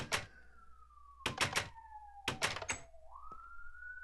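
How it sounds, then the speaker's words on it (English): In a Minecraft server game, a synthetic siren tone glides slowly downward, then sweeps back up. Several short, sharp thudding bursts cut through it, and nobody speaks. "sirens."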